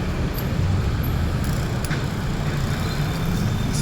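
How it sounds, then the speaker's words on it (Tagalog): Steady traffic rumble rising from a street three floors down in San Juan at night: a continuous, distant wash of car and engine noise with no distinct passing vehicles. "Traffic na sa baba, oh."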